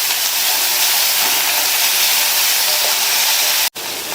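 Finely chopped medium onion sautés in hot oil in a pan, a loud, steady, close sizzle that drops out for an instant near the end before resuming.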